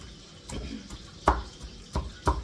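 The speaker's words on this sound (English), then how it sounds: "So I have several pieces of bacon here. And I'm just going to roughly chop it." Several knife chops through cooked bacon pieces on a cutting board, sharp irregular thunks spaced about half a second apart, close and fairly quiet.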